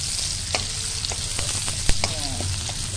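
Onions, a violet shallot-type variety, sautéing in a pan after garlic has browned for chicken sarsiado, giving a steady close sizzle with a few sharp utensil clicks and scrapes, no talking.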